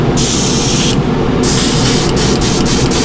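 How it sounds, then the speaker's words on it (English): An airbrush sprays paint onto fishing lures in loud, steady hissing bursts, one long blast followed by several shorter pulses, with no voices over it. "know where your airbrush is hitting"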